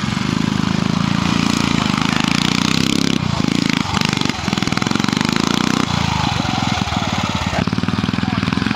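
A rigid-frame BSA C10 motorcycle runs at a hillclimb trial, a loud, close, chugging single-cylinder engine with rhythmic throttle pulses, while a commentator talks over it.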